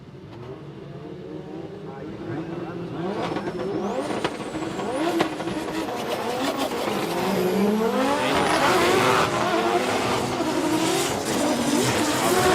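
Drift cars in a Formula Drift Japan Top 16 battle at Ebisu Circuit West Course, Fukushima, roar and rev hard with rising and falling engine notes and tire squeal, loud and continuous, under a commentator's voice.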